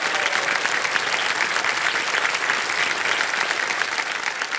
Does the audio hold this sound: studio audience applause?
yes